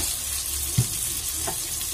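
Egg curry masala with salt and turmeric sizzles steadily in a pan, a continuous close frying hiss broken by one brief scrape of stirring near the middle.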